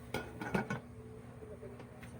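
A metal lid clatters back onto a cooking pot of adobong sitaw, a few sharp clinks and knocks up close, then quieter kitchen noise.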